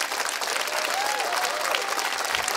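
Nightclub audience applauding steadily and loudly, a dense wash of clapping throughout with faint crowd murmur beneath.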